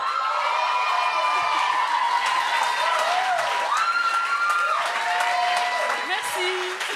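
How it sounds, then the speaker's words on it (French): Audience at the Gong Show stage talent show applauds and cheers in a steady, dense wash of clapping and shouts, with voices and tonal sounds riding over the crowd noise throughout. "T'as eu les meilleurs applaudissements."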